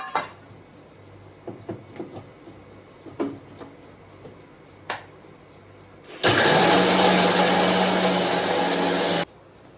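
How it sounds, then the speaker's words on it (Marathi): A mixer grinder grinds green chillies and curry leaves for a curry leaf chutney. It starts abruptly after quiet kitchen clatter and runs as a loud, steady whir for about three seconds before cutting off. "आणि आता हे सगळं बारीक करून घेते."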